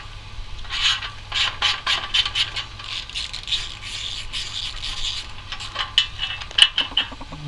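A 12mm socket ratchet clicks and scrapes while a clamp is tightened to fit a British Custom slash cut exhaust tip onto a 2025 Triumph Scrambler 400X, giving close, irregular bursts of ratcheting and rubbing.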